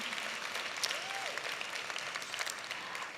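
Brief scattered applause from a small audience, thin clapping that rises and fades at a moderate distance.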